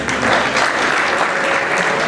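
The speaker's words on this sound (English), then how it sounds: "Another round of applause for them." Audience applause fills a wedding reception hall, steady dense clapping throughout at close range, with a faint voice briefly audible beneath it.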